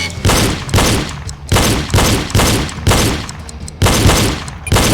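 Loud pistol shots from a video game shooting drill, fired in a fast steady rhythm of about two per second for roughly ten sharp, close cracks with short ringing tails and no talk.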